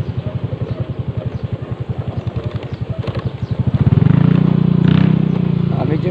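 A motorcycle engine putters with a fast, even pulsing beat, then revs up into a louder, smoother drone as the rider heads home through a residential subdivision.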